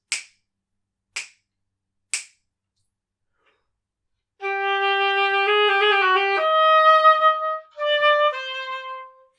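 Three sharp clicks sound at steady intervals, then an oboe plays sustained notes with a quick trill figure, stepping between pitches in a slow, even rhythm.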